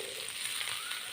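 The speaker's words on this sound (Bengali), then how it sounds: "আদা রসুনটাও একটু ভেজে নেব।" Ginger and garlic fry in a pan with onions while making matar paneer, giving a steady, close, bright sizzle without pause and no speech.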